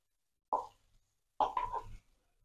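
Ground masala paste drops into a pan over a low flame: two soft wet plops, the second longer and sloppier, close and quiet.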